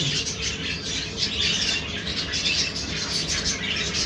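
Small birds squawk and chirp repeatedly at their nest during egg-laying, in a busy, overlapping chatter close by, over a soft background hiss.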